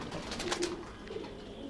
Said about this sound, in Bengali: এই কবুতরটা একটু দেখাই।